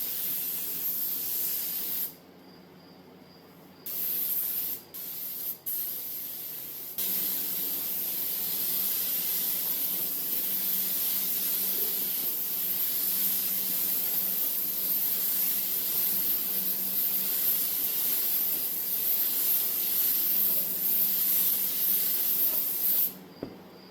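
A spray gun applies thinned primer to a Farmall 706 tractor hood, a steady loud hiss running almost continuously with a few short breaks early on, close and without talk.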